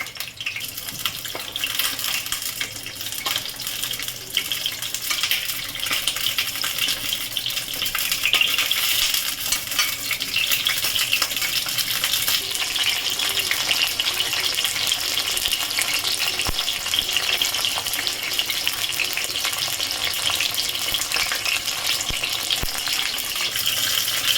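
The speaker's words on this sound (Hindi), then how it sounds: "बैगन को डालकर हम इसमें तल लेंगे और बैगन से हम उलट पुलट कर इस तरीके से पका लेंगे" Eggplant frying in hot oil in a pan, a continuous dense sizzle and crackle that holds steady and slightly swells over about twenty-four seconds, close up with no voices.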